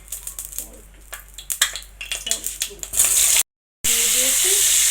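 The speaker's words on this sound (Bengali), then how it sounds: "এবার আমি পটলটা ভেজে নিই" Pointed gourd (potol) with salt and turmeric in a wok, first a run of clattering knocks and scrapes, then a sudden loud, broad sizzle that breaks off briefly and resumes steadily.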